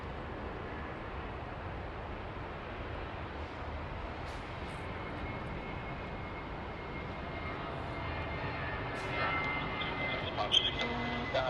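A Jetstar airliner at Sydney Airport, its engine roar a steady, broad rumble that holds throughout and swells slightly near the end as the aircraft draws closer.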